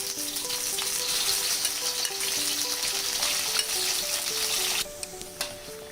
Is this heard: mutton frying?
yes